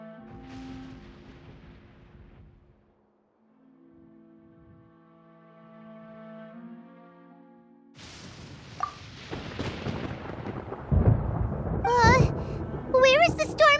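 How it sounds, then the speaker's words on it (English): Thunder in the video game Genshin Impact rolls out as deep booming rumbles with crackling bursts, loud and close, alongside game music and voices speaking. "Paimon hears thunder!"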